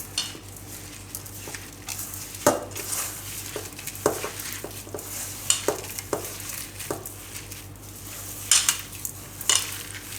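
A spoon scraping and tapping against a bowl while a spice mixture with red chili powder is mixed, irregular close clinks and scrapes over a faint steady hum, no talk.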